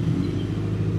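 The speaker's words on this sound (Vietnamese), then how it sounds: "Đây, động cơ 1001 mình nổ máy quý khách nghe nha." A Honda CB1100RS motorcycle engine idles steadily at close range, giving a low, even rumble with a fast throbbing pulse and no voices over it.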